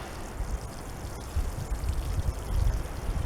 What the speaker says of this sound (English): And just water these in.